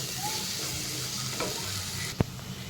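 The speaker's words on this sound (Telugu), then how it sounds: "ఒకసారి కలుపుకుందాం." Egg curry with fresh coriander and curry leaves stirred in an oily pan, a continuous sizzle with scraping strokes and one sharp utensil knock near the end; no talking.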